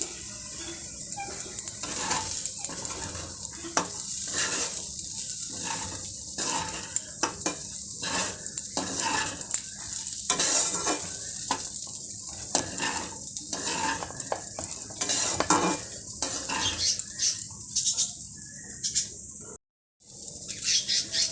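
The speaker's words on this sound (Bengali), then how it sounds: "চালগুলো ভাজা হয়ে গেছে আমি তিন চার মিনিট মতো ভেজে নিলাম তেলের মধ্যে" Rice frying in hot oil with ground coriander and garam masala gives a steady hiss, with frequent scraping and clinking of a spatula in the pan, close and continuous, with a brief break near the end.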